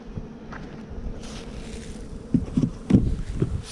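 Honeybees buzz around a hive feeder during early spring hive splitting. Their low droning hum rises in a few brief, louder swells near the microphone, mixed with soft wind rumble.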